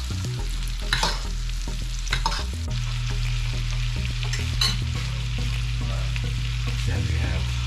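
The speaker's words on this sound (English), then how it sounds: "Once the butter starts to melt, we're just going to spoon it on, baste the" Salmon pieces sizzling in melted garlic butter in a pan while being basted, a steady frying hiss with spoon clinks and scraping taps at intervals, no speech.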